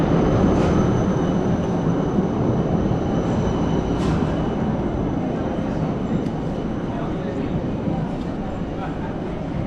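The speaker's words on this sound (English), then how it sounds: "and there's buses and trams" A tram rolls along a busy street in Bern, Switzerland, a steady loud rumble with faint squeals over city traffic noise, close by and continuous throughout.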